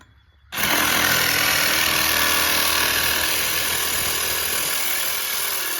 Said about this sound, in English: I wanna go ahead and cut this rusty chain off this CBR